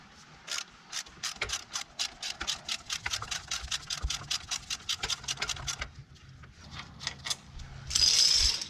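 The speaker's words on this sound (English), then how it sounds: "Now we're going to loosen the bottom bolt." A ratchet wrench loosens the rear brake caliper bolt on a 2000-2006 GMC Yukon Denali, producing a fast run of close, crisp clicks that slows and breaks into scattered strokes.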